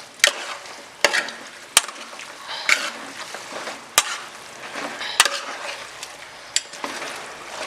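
Mutton being sautéed with masala in a pan, giving a steady soft sizzle with repeated sharp scrapes and clinks of a spoon stirring against the metal, close by and without talking.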